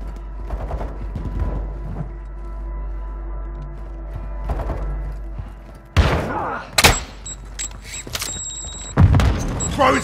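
Semtex grenade blast in Call of Duty: Modern Warfare II, a sharp loud explosion partway through amid scattered gunfire and thuds, over a low game rumble, with brief voice chatter.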